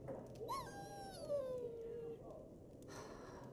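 A dog in a video game whimpers and whines, a thin rising-then-falling plaintive cry lasting over a second, heard over low game background with a voice nearby.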